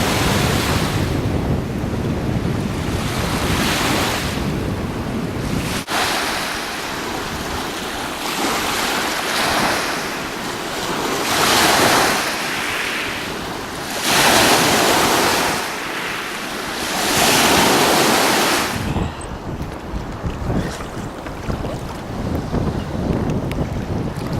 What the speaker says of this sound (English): Pretty good waves out here.